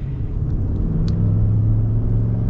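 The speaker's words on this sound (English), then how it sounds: "You cannot go wrong with a naturally aspirated V8." A Nissan Titan's naturally aspirated V8 engine rumbles loud and close, holding a steady rev with a deep, sustained tone and no talking.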